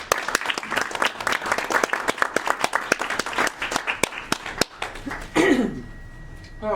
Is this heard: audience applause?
yes